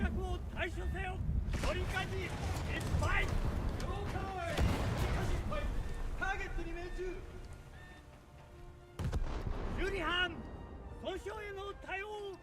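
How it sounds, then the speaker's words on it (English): Battleship Bayern firing its big guns in a naval video game, heavy booming blasts with rumbling tails mixed under continuous game effects and a talking voice. "the Bayern is shooting back with very big guns"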